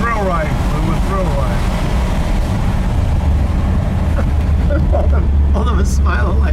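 A 1960 Chevrolet Biscayne with a 496 cubic inch V8 accelerates hard on a warm day in Scottsdale, Arizona, its loud, deep engine roar steady and heavy, mixed with strong wind buffeting throughout.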